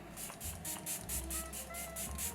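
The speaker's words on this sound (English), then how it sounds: "I'm gonna use the Tarte Stay Spray." Tarte Stay Spray setting spray mists onto a face in about nine quick, soft hissing pumps, evenly spaced and close to the mic, with no talking.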